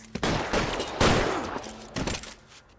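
Loud bursts of gunfire in a shootout in the L.A. Noire video game: rapid repeated shots in two close volleys with a brief pause between them.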